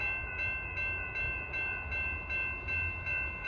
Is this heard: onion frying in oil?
no